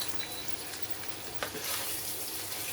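Chopped onion frying in a non-stick pan with steady, close sizzling and a brief scrape of stirring midway, the hiss brightening slightly near the end.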